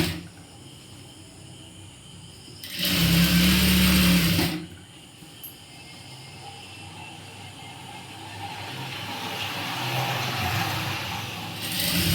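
A sewing machine stitches a blouse hem in a tailoring setting, one loud steady whirring run lasting about two seconds, then quieter background hum and faint handling.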